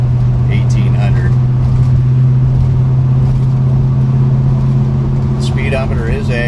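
A 1955 Chevy Bel Air cruising at about 35 mph in fourth gear near 1800 rpm, heard from inside as a steady low engine drone and road rumble, with someone talking over it briefly.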